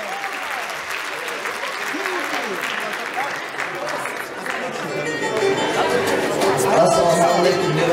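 Applause from a concert audience greets a singer, dense clapping growing louder toward the end, with crowd chatter and voices layered through it.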